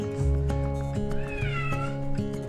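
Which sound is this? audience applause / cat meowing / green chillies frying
cat meowing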